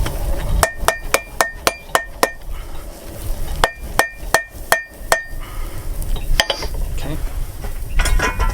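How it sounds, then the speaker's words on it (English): Light, fast hammer strokes on a forge weld, ringing metallic blows in two quick bursts of about six and five hits, then scattered softer clinks. "For that first forge weld, we're just going to do light, fast strokes."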